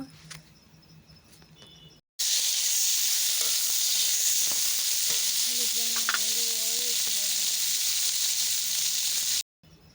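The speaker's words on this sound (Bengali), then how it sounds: "একই কড়ার মধ্যে আমি উচ্ছে ভেজে নেব" Bitter gourd slices fry in oil in a wok, giving a loud, steady, close sizzle that starts abruptly and carries on unbroken for about seven seconds before cutting off.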